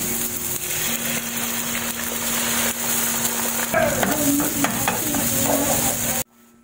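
Egg frying in a pan with onion and tomato, a steady loud sizzle with stirring scrapes throughout that cuts off abruptly near the end.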